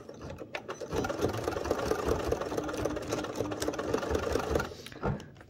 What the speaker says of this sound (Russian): Держу ниточку, опускаю иглу и еду назад.